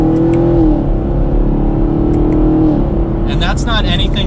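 A 2021 Chevrolet Camaro SS 1LE accelerates with a steady, loud exhaust drone that holds and then shifts pitch, heard from inside the car with brief chirps near the end.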